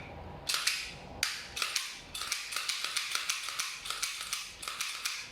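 A WE Glock 18c Gen 4 airsoft pistol fires in quick bursts of sharp snapping reports, each shot with a mechanical clack, in uneven rapid strings, loud and close with no talking.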